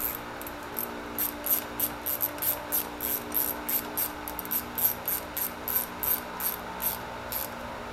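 A ratchet turns a 12 millimeter bolt during a rear brake replacement on a motorcycle, giving a steady run of quick, close clicking pawl strokes in even bursts with no talking.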